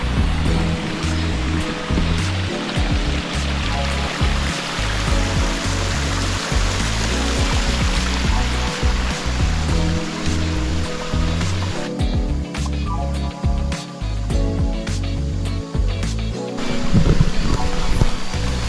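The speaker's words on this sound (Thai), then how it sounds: "ตอนนี้ผมอยู่ด้านบนของน้ำตกแล้วนะครับทุกคน" Steady roaring rush of falling water, heard from the top of a waterfall in Doi Wiang national park, loud and continuous throughout with no talking.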